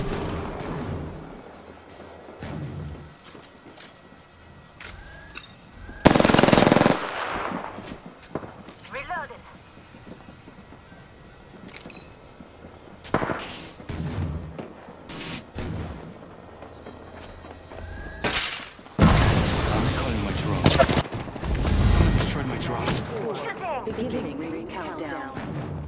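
Gunfire in a video game, several sharp loud bursts spread through the clip, heaviest around the middle and near the end, mixed with footsteps and background game noise while a player talks.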